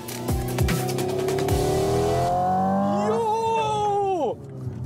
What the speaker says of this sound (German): Die simulierte Gangschaltung ist aber nicht nur Akustiktuning, sondern hat auch direkten Einfluss auf das Fahrverhalten.